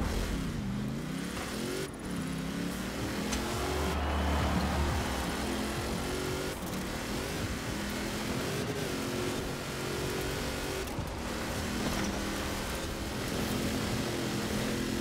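Engines of cars racing cross-country over snow in Forza Horizon 4, a steady loud revving drone with rising and falling pitch as the vehicles accelerate and shift, continuous throughout.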